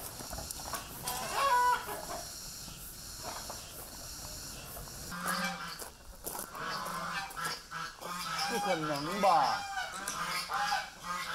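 Chickens cluck and squawk close by, including a hen, in scattered bursts over a farmyard background, with a person speaking briefly between the calls.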